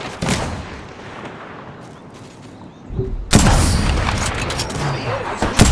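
Gunfire booms in the shooter game Apex Legends, first a single blast and then a sustained loud burst of rapid shots over the last half.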